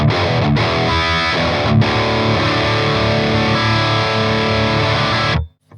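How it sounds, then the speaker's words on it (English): Electric guitar in drop D played through a Friedman BE-100 Deluxe amp on its BE channel, giving a loud, steady classic crunch of chugging riffs and ringing chords that cuts off abruptly at the end. "That's a great classic crunch tone right there."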